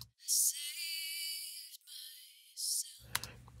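A lead vocal soloed through a de-esser's high-pass sidechain filter, stripped down to airy, hissing sibilance: two bright 's'-like bursts and thin buzzing between them, then faint clicks at the end.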